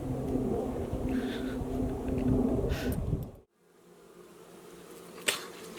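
A dense buzz of honeybees swarming close by, which cuts off abruptly, leaving a quieter hum with a brief knock near the end.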